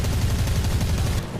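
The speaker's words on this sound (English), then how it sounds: "so I just kind of snap off a couple of shots here" Rapid cannon fire from a La-7 fighter plane in the War Thunder game, a dense, continuous low rattling burst over engine roar that cuts off abruptly near the end.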